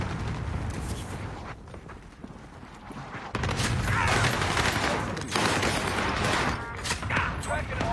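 Dense, continuous rumbling blasts and rattling gunfire from an airstrike in a squad shooter video game, loud and busy throughout and surging heavier partway through, with voices talking underneath.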